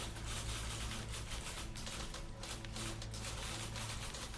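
Typewriter keys clatter in rapid, continuous bursts in the video game The Beginner's Guide, a dense, steady mechanical chatter with no speech.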